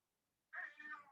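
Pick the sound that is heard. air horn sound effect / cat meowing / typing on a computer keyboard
cat meowing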